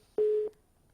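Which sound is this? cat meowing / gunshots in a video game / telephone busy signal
telephone busy signal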